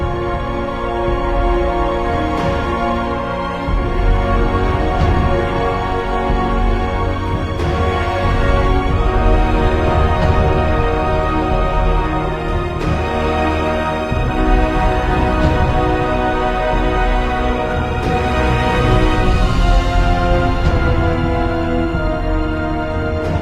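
Dense orchestral strings in a dramatic Harry Potter film score swell in relentless, overlapping waves, loud and continuous with low, heavy body throughout.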